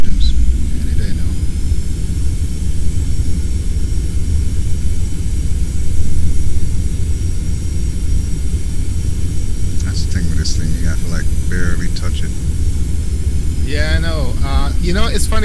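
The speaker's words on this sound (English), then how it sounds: "And spool up engines." Jet engines on a Boeing 717 in the Prepar3D flight simulator spool up with a loud, steady rumbling roar and a high whine, and voices talk briefly over it near the end.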